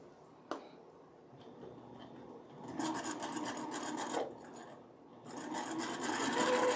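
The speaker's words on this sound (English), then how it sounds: "So now we're just gonna stitch across that line." A sewing machine stitches across a line on a fabric placemat made from scraps, its steady buzzing run coming in two close bursts after a quieter stretch with a faint click near the start.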